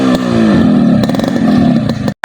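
A Yamaha RX King two-stroke motorcycle revs loud and close, its raspy buzzing engine rising and holding for about two seconds before cutting off abruptly.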